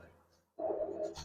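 After a brief hush, a Giribaz pigeon lets out one close, throaty coo lasting about half a second.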